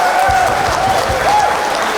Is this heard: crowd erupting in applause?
yes